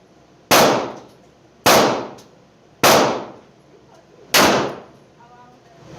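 Four loud, sharp revolver shots from Colt Detective and Smith & Wesson snub-nose revolvers, evenly spaced about a second apart, each cracking hard and ringing off before the next.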